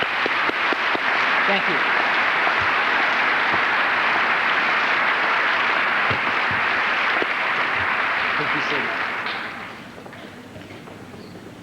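A large crowd at a 1984 high school senior academic recognition ceremony applauds honor students with sustained, full clapping for about nine seconds, then it fades out, and a voice briefly says something as it dies down.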